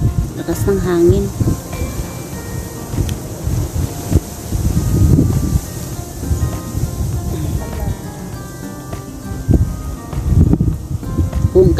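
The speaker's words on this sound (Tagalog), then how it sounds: "Ang lakas ng hangin dito," Strong late-winter wind buffets the microphone in loud, rumbling gusts throughout, with rustling and occasional voices mixed in.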